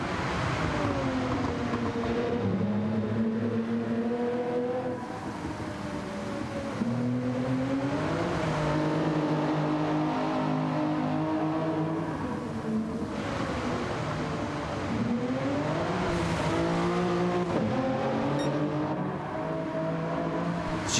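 In a Gran Turismo 7 race, a race car's engine drones loudly and continuously, its pitch repeatedly rising and falling with throttle and gear changes as the tyres slide under power.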